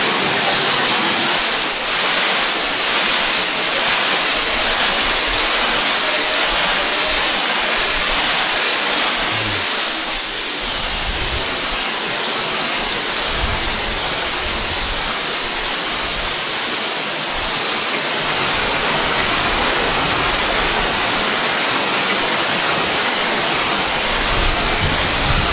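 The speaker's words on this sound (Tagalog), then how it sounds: "Nasa tuktok na po kami ng Agbalala Falls." Agbalala Falls in Abra de Ilog, Occidental Mindoro, heard from the top as a steady, loud rushing roar of falling water that holds constant throughout with no voices.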